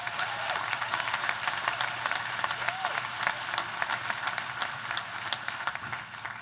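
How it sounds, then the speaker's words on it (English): A university commencement audience applauds faculty and staff in a large crowd. Dense, steady clapping continues for several seconds at moderate distance and fades slightly at the end. "Please also give them a big round of applause and thanks."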